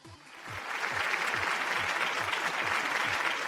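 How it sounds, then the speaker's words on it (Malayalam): A studio audience on a Malayalam TV game show bursts into applause, a dense, steady wash of many hands clapping at close range that swells quickly and holds. "ആതിര, നല്ലൊരു കയ്യടി."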